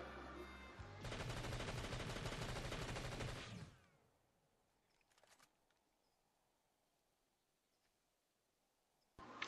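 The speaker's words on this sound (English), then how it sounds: "I'm going to empty an entire magazine into this wall" A video-game infantry rifle empties a full magazine into a wall in one sustained, loud rattling burst of rapid shots, then stops abruptly, followed by quieter faint clicks and a sharp final crack.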